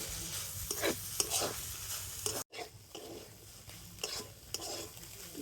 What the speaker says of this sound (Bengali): আর এবার আমি সব সবজির সাথে আবার ওইভাবে মিশিয়ে নেব।